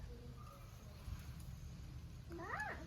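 A cat gives a single rising and falling meow near the end, close and clear, after a stretch of low background rumble and faint scattered tones.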